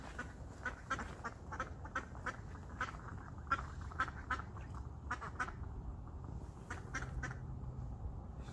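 Ducks quack repeatedly in a steady, busy chatter, fairly faint against a constant low outdoor background.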